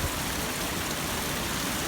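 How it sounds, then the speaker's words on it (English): A hot spring waterfall flows in a dense, even rush of splashing water, broadband and constant, heard close with no voices. "and there's the hot waterfall"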